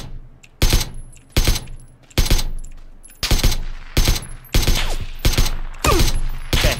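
Gunfire in a military base shooting video game, loud, sharp bursts of automatic fire in repeated volleys separated by brief gaps, close and dominant throughout.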